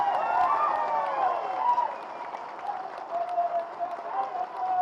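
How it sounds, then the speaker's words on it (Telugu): A large crowd at a political rally claps and cheers, a broad, steady wash of applause with overlapping shouts and calls that holds at moderate loudness and eases slightly near the end. "ఒకసారి గట్టిగా చప్పట్లతో వారికి మనందరం అభినందనలు చెప్పాలి."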